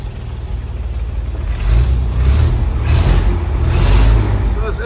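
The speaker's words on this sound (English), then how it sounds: "probably either have an exhaust leak or maybe we need some valve adjustment" A 1969 Chevy C30 truck engine idles with a steady low rumble, rising slightly at times, with a faint ticking edge from an exhaust leak or valves needing adjustment running through it.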